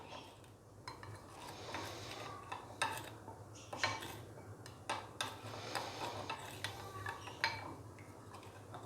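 A bowl of lukewarm milk with sugar and yeast being mixed for roghni naan dough, giving faint, close clinks and scrapes of a spoon against the bowl over a steady low hum.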